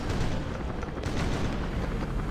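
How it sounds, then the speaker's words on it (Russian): A dense, continuous roar of explosions and gunfire-like blasts in the zombie game Last Day Alive, loud and sustained with no pauses throughout. "Взрыв."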